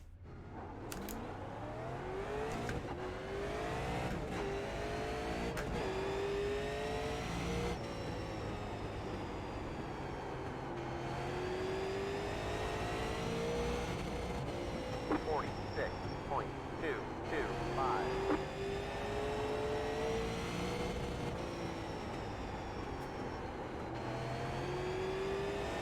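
A super late model race car laps in the iRacing sim, its engine note climbing and dropping through repeated revs and shifts in a continuous, fairly quiet drone.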